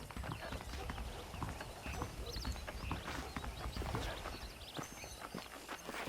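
Hooves of saddled horses clip-clopping in the Western video game Red Dead Redemption, a brisk irregular patter of hoofbeats at close range with game sounds around them and occasional speech over the top.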